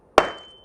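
A sharp single whack against a glass orchid flask holding jewel orchid plantlets, an abrupt close impact with a brief ringing decay and no talk.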